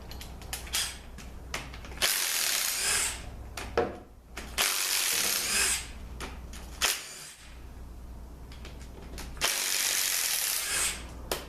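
A ratchet backing out 12 mm bolts from the rear cover of a Toyota U151 transmission, with loud close-up bursts of rapid clicking separated by short pauses.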